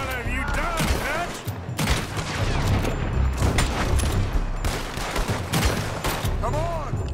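Sustained gunfire in Red Dead Redemption 2 on PC, heavy overlapping shots mixed with chaotic game noise that keeps a dense, loud barrage going for several seconds.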